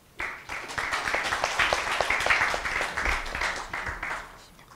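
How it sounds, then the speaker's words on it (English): An audience applauds a presenter at a water-sector conference session, a dense run of clapping that starts abruptly and holds steady for several seconds before thinning out. "Please give him a big round of applause."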